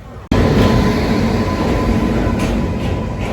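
Krishna Express train running on its Adilabad to Tirupati route, a loud continuous roar and rumble that bursts in suddenly and then holds steady and close with no pause.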